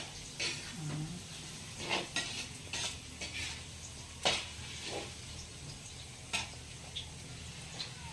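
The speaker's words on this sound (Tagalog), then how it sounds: "Ako magpiprito ng hotdog." Hotdogs frying in a pan at home give a faint, steady sizzle, with scattered clinks and scrapes of utensils against the pan at irregular intervals.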